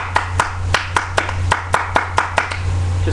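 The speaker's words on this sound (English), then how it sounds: "Clapping is a very powerful tool too." A single person claps hands close up in a steady rhythm of about a dozen sharp claps, each distinct, over a low constant hum.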